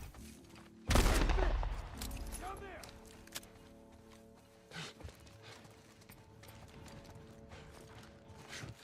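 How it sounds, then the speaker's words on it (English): A loud gunshot bursts out in The Last of Us Part 1, followed by a ringing tail and quieter game sounds and scattered thuds. "I'm just going to shoot to bring them out."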